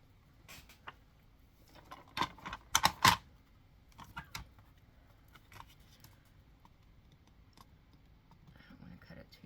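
A sharpened craft blade cuts out a paper piece for a handmade birthday card, giving a few sharp, close clicks and taps clustered in the middle over a quiet room background.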